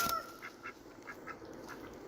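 Ducks quacking outdoors near a spot where trees have fallen: a series of short nasal calls at a moderate distance, fairly faint over quiet background noise.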